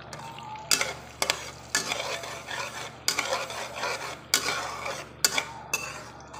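Garlic sautéing in melted butter in a pan, a close sizzle broken by repeated sharp scraping strokes of a spatula against the pan, roughly one each second, with no talk.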